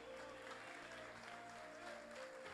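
A church congregation applauds during a worship service, a steady, dense wash of clapping that holds evenly throughout with no clear break.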